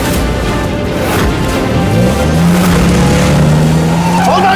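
A car engine runs close by, a loud steady rumble whose pitch rises as it revs and pulls away, with a brief voice briefly under the noise.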